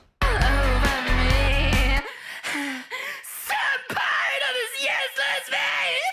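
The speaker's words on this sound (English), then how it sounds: "a lot of this is just screaming" Screaming vocals in a music track played back, run through an auto-tune vocal effects chain; loud, strained yelled singing over dense distorted instrumentation with heavy low end in the first two seconds, then continuing raw shouts.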